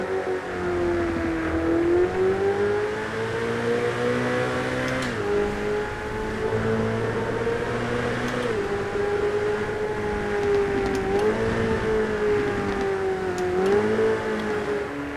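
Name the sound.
Ferrari F8 Tributo engine in video game GTA 5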